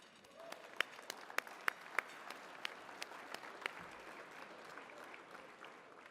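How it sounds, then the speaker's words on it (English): An audience claps steadily for several seconds, with a few sharp close claps standing out early before the applause thins slightly; moderately quiet overall. "Give a round of applause."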